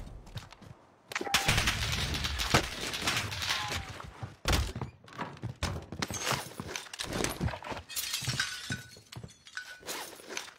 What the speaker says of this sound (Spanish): me están pegando tiros